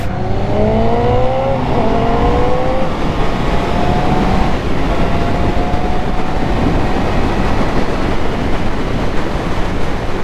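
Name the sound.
2025 Honda CB650R motorcycle accelerating away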